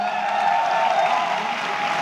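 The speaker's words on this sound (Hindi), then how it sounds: "आई वांट कि एक बार जोरदार तालियां हो जाए उनके लिए" An audience applauds at a motivational talk, giving loud, sustained clapping that holds at an even level from start to finish.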